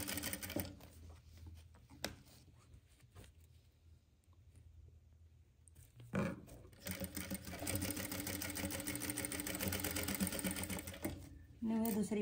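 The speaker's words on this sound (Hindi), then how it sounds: "ऐडर लगाऊंगी इसकी सिलाई और इस साइड तक सिलाई लगा दूंगी" Sewing machine stitching lace onto a velvet long kurti blouse, its motor running in a steady rapid hum after quieter handling noises, with someone talking at a low level throughout.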